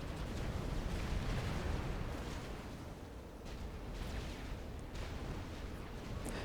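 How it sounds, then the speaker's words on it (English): Air force bombing runs in Supreme Commander: Forged Alliance, heard as a steady rumble of distant explosions and blasts rolling on without a break, low and fairly faint, with no talking. "Definitely the only one bombing at this stage."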